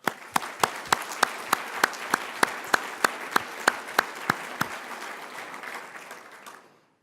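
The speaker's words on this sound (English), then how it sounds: "Let's give them a round of applause." Audience applause for city council members at a community breakfast, a steady wash of clapping with a rhythmic loud clap accenting it about every third of a second, fading out near the end.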